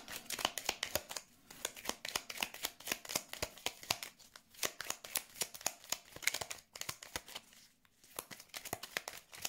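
Cards are shuffled and drawn for a Lenormand-style card reading: quiet, quick, crisp riffling and flicking in rapid bursts, with brief pauses between handfuls.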